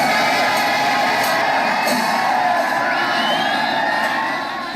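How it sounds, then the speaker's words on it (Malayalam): A huge festival crowd at Thrissur Pooram's Kudamattam umbrella exchange roars and whoops continuously, a dense wall of cheering and shouting that stays loud and steady throughout, with scattered high voices cutting through the din. "ആർപ്പുവിളികളോടെയാണ് പൂരപ്രേമികൾ ഓരോ കുടയെയും സ്വീകരിച്ചത്"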